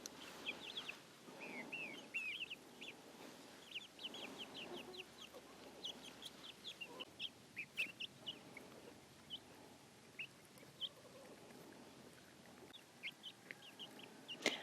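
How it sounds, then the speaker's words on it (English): Silkie and Easter egger hens cluck softly in a late-summer garden, a scattered run of short, quiet clucks and murmurs at varying distances, with no talk. "And I wanted to show you these girls. The silkies are so cute."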